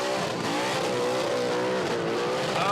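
A burnout car at the Red CentreNATS with its tyres shredded down to the rims, the engine holding a loud, sustained, bouncing roar against the rev limiter, close and continuous, with no talking.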